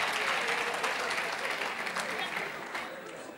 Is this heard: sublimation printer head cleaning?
no